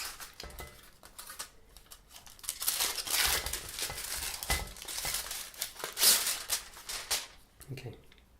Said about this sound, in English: So it's sealed, so I'm going to have to rip it to get in there.